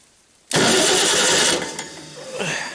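Farmall Super C tractor engine starting with choke: a sudden loud catch into a rough, steady running roar that eases after a second, followed by quieter uneven idling.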